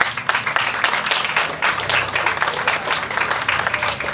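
An audience at a Carnival handover ceremony in Aruba applauds the carnival participants, dense lively clapping with some crowd noise, fairly loud and steady throughout.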